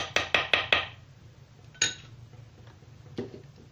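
A spoon clinks sharply against a bowl four times in quick succession while coconut ball ingredients are mixed, then two more isolated taps follow after pauses, close and bright with no talking.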